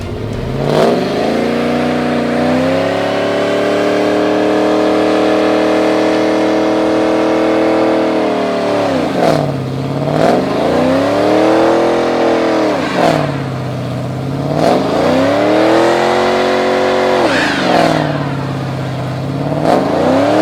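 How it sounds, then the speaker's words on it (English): A budget-build car's engine roars close by through repeated burnouts, revving hard in long sustained pulls with pitch dropping and climbing again several times, wheels slipping under the loud drone. "I promised you burnouts. You guys are gonna get burnouts."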